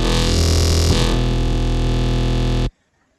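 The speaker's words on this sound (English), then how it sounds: "But we're going to use Amber, which sounds like this." Amber wavetable synth patch for briddim dubstep: a single thick, buzzy sustained tone with dense harmonics, growling low end that shifts slightly partway through, holding loud for about two and a half seconds before cutting off.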